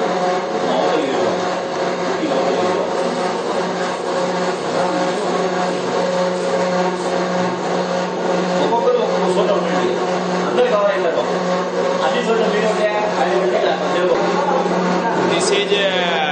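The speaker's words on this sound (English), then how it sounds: "That is pulverizer machine for crushing the raw material." A pulverizer machine crushing fertilizer raw material runs with a loud, steady mechanical roar and hum that continues without a break throughout.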